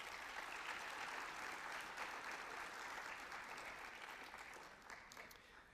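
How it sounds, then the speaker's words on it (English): Faint, distant audience applause at a Veterans Day program honoring service members, a steady soft wash of clapping from a crowd that slowly fades. "Let's give the ones who raised their hand a round of applause for answering the service."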